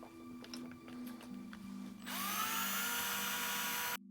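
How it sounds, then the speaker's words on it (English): A power drill bores into a tubular lock, starting with quiet tapping and then breaking into a loud, steady whine that cuts off abruptly. "Let's get drilling."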